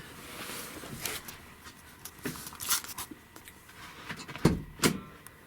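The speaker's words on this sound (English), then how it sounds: "I'm gonna pop the trunk" A Toyota Supra's trunk is released with a few sharp mechanical clicks and thunks from the latch, spaced irregularly, fairly close and moderately quiet, with a soft background hiss and no voices.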